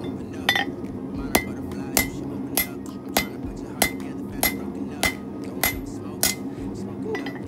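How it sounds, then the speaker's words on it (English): Hammer blows on a heated mokume gane metal billet, about eleven sharp metallic strikes in a steady rhythm with a ringing, clanking tone over a low background rumble. "I'm gonna pull it out and give it our first hammer."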